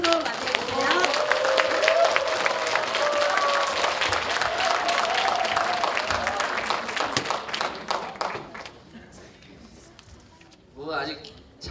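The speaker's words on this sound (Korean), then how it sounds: "뜨거운 박수로 맞이해주세요." Warm, sustained applause from a community forum audience greets a district mayor, dense clapping that holds steady for several seconds before thinning out and fading, with a brief voice near the end.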